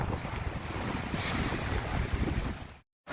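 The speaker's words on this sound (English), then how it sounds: "reefed with about 20 knots of wind and it's coming over the foredeck" Wind and breaking waves roar steadily around a reefed sailboat at sea in about 20 knots of wind, spray coming over the foredeck; a loud, continuous wash that cuts out abruptly near the end.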